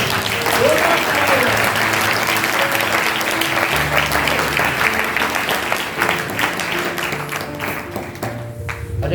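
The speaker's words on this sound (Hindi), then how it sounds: "जोरदार ताली बजाए" A church congregation at a Christmas service gives sustained loud applause, a dense wash of clapping that holds steady throughout, with voices faintly mixed in.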